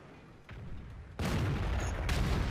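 A tank cannon fires in a tank video game, the AMX 30 Early: one loud broadband blast at about 1.2 seconds that sustains, a second harder crack near 2.1 seconds, and a softer thump earlier.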